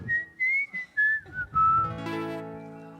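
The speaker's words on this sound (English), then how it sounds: "I love whistling." A person whistles a wavering melody at a celebration-of-life music gathering, several sustained and sliding notes in short phrases, close and clear, ending in a brighter held passage with rich harmonics.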